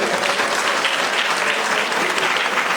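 Audience applause for MAFS at a community gathering with the Consul General of India, a dense, steady roar of many hands clapping throughout, loud and close with no break.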